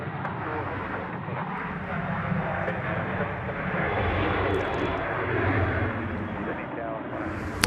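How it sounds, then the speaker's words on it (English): An Airbus A320 jet operated by Jetstar takes off at Sydney Airport, its engines giving a steady, broad roar that builds slightly in the middle and holds for several seconds. "Jetstar A320 getting away there."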